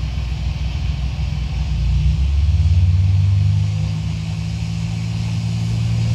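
An aircraft engine in the Prepar3D flight simulator throttles up for takeoff: a steady, loud low rumble that swells and deepens as power rises, then holds a constant drone.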